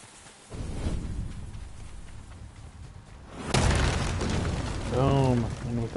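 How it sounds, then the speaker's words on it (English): Video game explosion: a sudden loud boom bursts out midway and rumbles on, following a stretch of steady low noise, with a voice heard speaking near the end. "And with that explosion, we are back in business."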